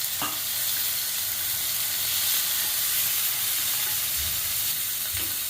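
Onions and tomatoes fry for a vegetable kurma with a loud, dense hiss and sizzle close up, broken by occasional stirring knocks.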